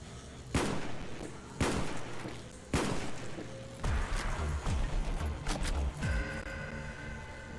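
Dragunov sniper rifle firing in a video game: three loud, sharp shots spaced about a second apart, followed by a burst of rapid overlapping gunfire and mechanical clatter, with no talking.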